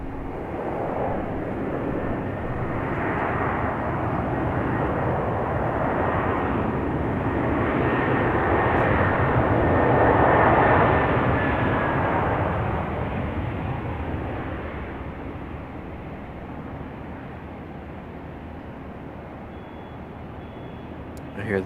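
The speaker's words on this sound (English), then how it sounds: "I hear the A220 over here singing us a song." Airbus A220 airliner departing from Raleigh-Durham International Airport, a loud, broad engine roar that swells toward a peak and then gradually fades as the jet moves away.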